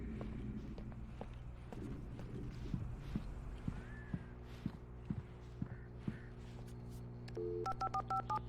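Telephone dialing in the video game Alan Wake Remastered, at a gas station phone: a quick run of faint tonal key beeps near the end, following footsteps and game ambience, quiet overall.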